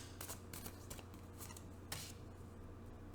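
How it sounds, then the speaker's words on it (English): A tarot card deck is shuffled by hand, a quick series of soft riffling flicks and taps, close and quiet with no talk. "One more shuffle off the top of the deck."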